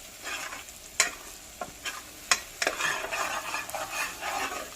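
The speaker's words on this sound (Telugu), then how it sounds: "సో ఇవన్నీ కొంచెం బాగా కలుపుకోవాలన్నమాట ఇలా" A spoon scrapes and clacks around a pan, mixing turmeric and spices into sizzling oil for methi chaman, with several sharp knocks over a low, continuous frying hiss and no talking.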